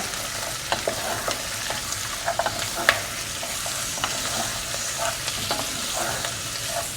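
Meat stirred into a pan of cooked onions and garlic for mlukhiyeh, frying with a steady close sizzle punctuated by scattered utensil scrapes and clicks, no voices.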